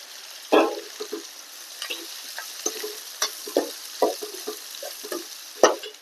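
Chopped onion and curry leaves sizzle in hot oil for a spice tempering with mustard seeds, cumin and dried red chillies, the frying broken by repeated sharp stirring scrapes and clicks at close range.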